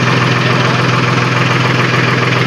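A tractor engine idles steadily up close, a continuous low rumbling drone with no breaks and no voices.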